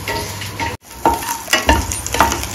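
Coriander seeds fry in a pan for tomato chutney, giving a steady close sizzle broken by a brief gap, with scraping stirs and light clinks on top.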